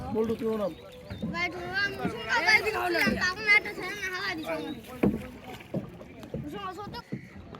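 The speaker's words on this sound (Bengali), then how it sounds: "নৌকা নিয়ে এই নদীর মাঝখানে চলে আসছি" A boat crossing the middle of the Padma River, with water sloshing and splashing close by under almost constant voices of people talking aboard.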